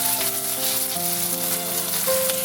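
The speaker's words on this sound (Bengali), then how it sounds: "নুন দিয়ে পেঁয়াজটা কিছুক্ষণ ভেজে নিচ্ছি।" Onions frying with salt in a pan for a taro root and prawn curry, a loud constant sizzle close up with a low tone running beneath it.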